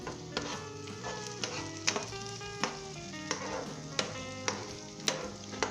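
Onions softening in a pan for shakshuka sizzle steadily while a utensil scrapes and stirs in regular clicks about every half second, close and fairly quiet with tonal background music underneath.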